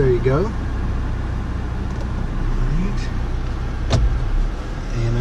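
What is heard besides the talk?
2014 Honda CR-V engine running after start-up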